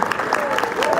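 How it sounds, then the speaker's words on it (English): Brief clapping from an audience at a business talk in a hotel, light and steady for about a second, with a voice speaking over it. "I thought you would clap."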